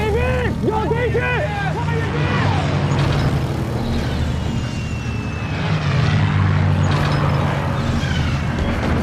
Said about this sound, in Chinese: 有敌机，上来！